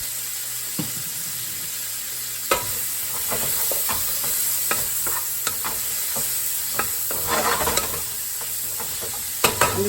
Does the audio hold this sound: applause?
no